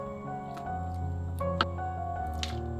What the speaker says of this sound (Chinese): 咱们先把豆腐放进锅里炖一会儿